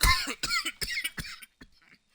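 Several sharp, loud coughs burst out close by in quick succession, tapering into softer throat noises and near silence by the end.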